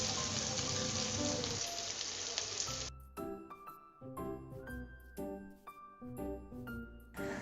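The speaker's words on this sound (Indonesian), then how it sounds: "Kita masukkan, lalu kita tumis sampai tercium bau harum." Red and green chilies sautéing in a hot pan give a loud, steady, dense sizzle for about three seconds. It then breaks into irregular, ringing clinks and clatters with shorter bursts of frying between them.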